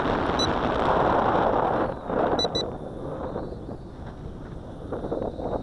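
Wind buffets the microphone during a Tarantula Spider 1505 drone flight, a loud rumbling roar that is strongest at the start and then eases, with a thin high motor whine running alongside and no talk.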